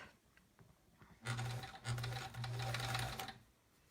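A sewing machine stitches a quilt seam in short, close bursts, running a moment, pausing briefly, then whirring steadily for over a second before stopping.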